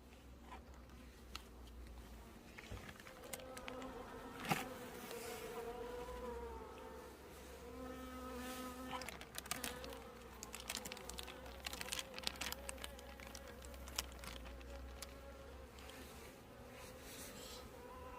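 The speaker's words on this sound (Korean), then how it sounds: "앞장에는 뒤쪽으로 벌이 넘어와 있습니다." Honeybees inside a hive in late winter make a steady, dense buzzing drone with individual bees flaring louder as they pass close, continuous and without any voices.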